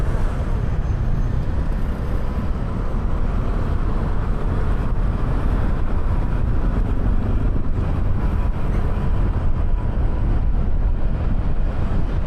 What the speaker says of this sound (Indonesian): Macet semua bro jalanan.